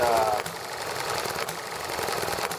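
An ET1 engine runs steadily with a rough, rapid mechanical chatter, close and fairly loud, while people talk casually nearby.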